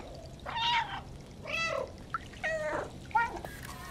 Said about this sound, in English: What if I meow really loudly?